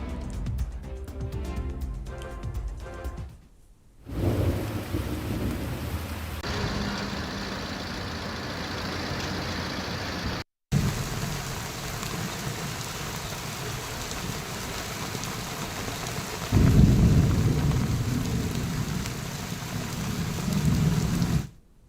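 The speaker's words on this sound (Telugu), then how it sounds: "ఇక హైదరాబాద్లో గంటపాటి వర్షం కురిసింది" Heavy rain pours over Hyderabad as a dense, continuous hiss and roar, broken by abrupt cuts, with a deeper rumbling swell in the later part.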